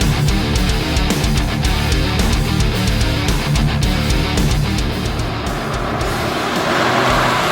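A Volkswagen Golf R on air suspension drives fast through a cone course, its engine note loud and steady the whole time, with brief tire and road noise and no voices.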